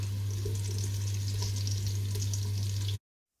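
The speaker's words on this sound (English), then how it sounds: "it goes straight into a large pot with a tablespoon of oil" Chopped chorizo frying in a tablespoon of oil in a large pot, giving a loud, dense, continuous sizzle and crackle with a steady low hum beneath, ending abruptly.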